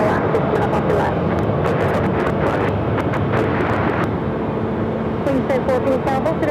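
A Frontier Airbus A320neo in White Pelican livery at Phoenix airport gives a steady, broad jet roar across the whole stretch, buffeted by wind noise on the microphone and with no pause or break.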